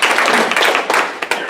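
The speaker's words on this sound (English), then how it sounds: "You're getting rounds of applause." An audience at a panel discussion gives a short burst of clapping, dense and close, with a few sharper individual claps near the end.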